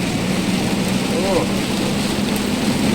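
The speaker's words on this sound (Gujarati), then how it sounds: "એ આ બધી વરસાદ જ પડે હો." Heavy rain pours in a steady, loud, unbroken hiss during a windstorm on a road trip, with a faint voice briefly present underneath.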